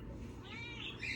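A cat meows indoors, a single drawn-out, rising meow close by over a soft low background, with no talking.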